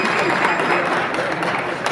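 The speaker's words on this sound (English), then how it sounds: "please just clap for Cat Fright" Brief applause from an audience, a dense, close wash of clapping with crowd murmur, loud and continuous for a couple of seconds.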